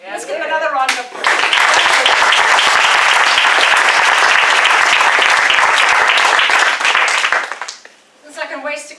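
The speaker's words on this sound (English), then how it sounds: "Let's give them another round of applause." An indoor audience at a meeting breaks into loud, sustained applause after speeches, many hands clapping densely for about six seconds before fading, with a voice speaking briefly before and after.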